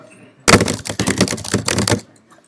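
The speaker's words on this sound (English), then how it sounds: "So I type pretty fast, so try to keep up here." Rapid computer keyboard typing during live coding at a developer conference, a dense burst of quick clicking keystrokes lasting about a second and a half, close and loud with no talk over it.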